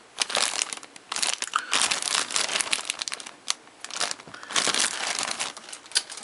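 Plastic bag holding Gundam model kit runners and polycaps being handled, loud close crinkling and crunching in irregular bursts throughout, with no talking.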